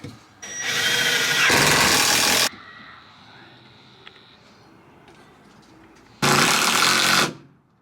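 A power drill drives screws into pocket holes while building a Chevy van armrest, heard as two loud, sustained whirring bursts close by, the first lasting about two seconds and the second shorter, separated by a quieter pause.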